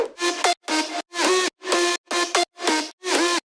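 A processed synth lead for bass house in FL Studio, buzzy and bright with side-chain pumping that cuts it into short pulsing bursts separated by silences, loud and alone.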